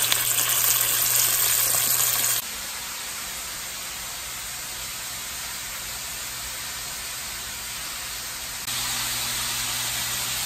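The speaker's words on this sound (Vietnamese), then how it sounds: "Mà mình chiên vàng là cánh gà mình nó chín rồi" Chicken wings fry in hot oil until golden, with a steady, loud sizzling hiss that drops slightly in intensity midway, then rises again.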